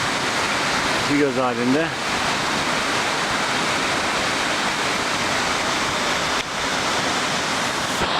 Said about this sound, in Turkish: Burası Aras Şelalesi.